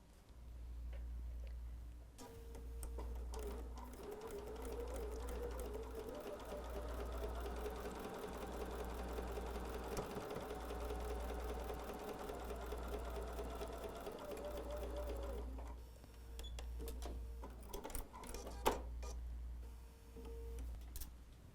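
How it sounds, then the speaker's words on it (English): Sewing machine stitching a slightly wider than quarter-inch seam on quilt fabric, a steady rhythmic whirring run of about thirteen seconds with a low pulsing motor beat, starting and stopping amid small handling clicks and rustles. "we'll go sew just a little bit greater than our 1/4 inch seam"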